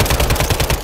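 A loud, close burst of automatic gunfire in Call of Duty Warzone Rebirth, about eight rapid shots in an even stutter over under a second, with no voices.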